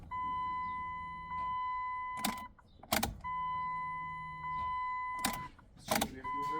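A Dodge Neon's fuel pump primes after the tank is refitted, steady electric whirs of about two seconds repeating several times, each broken by clicks and clunks of the key and car in between.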